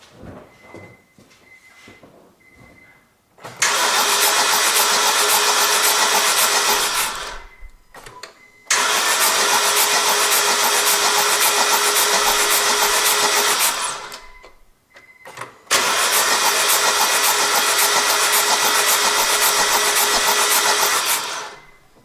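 A car engine cranks and catches three times during an ignition coil test, each start followed by a loud, steady running roar lasting several seconds, with brief quiet gaps between runs.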